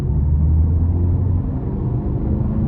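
A 2017 Nissan Rogue S engine idles just after start-up, a steady low rumble heard close and alone for a few seconds.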